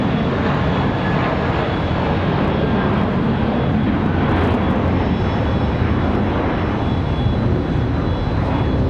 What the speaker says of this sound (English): Bit of a leap off the runway for the A321.